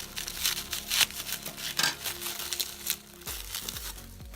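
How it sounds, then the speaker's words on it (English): Plastic packaging for OPI gel colors being cut open and unwrapped, close-up crinkling and crackling with a few sharp snips, steady and fairly loud throughout. "Let me cut this one open first."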